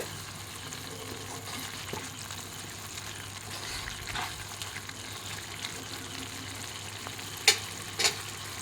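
Cheese masala Maggi noodles are stirred gently in a pan over a low, steady sizzle with soft scraping, ending in a couple of brief sharp clicks.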